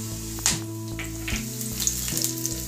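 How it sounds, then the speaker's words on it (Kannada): Cumin seeds and curry leaves sizzling in hot oil for a South Indian Brahmin-style lunch, a bright crackling sizzle over a steady low hum, with a couple of sharp pops near the start. "ಎಣ್ಣೆ ಬಿಸಿ ಆದ ನಂತರ ಅದಕ್ಕೆ ನಾವು ಈ ದೊಡ್ಡ ಜೀರಿಗೆ ಇದೆಯಲ್ಲ, ಈ ದೊಡ್ಡ ಜೀರಿಗೆ ಮತ್ತೆ ನಾವು ಕರಿಬೇವಿನ ಸೊಪ್ಪು ಇದನ್ನ ನಾವು ಹಾಕೋಬೇಕಾಗುತ್ತೆ"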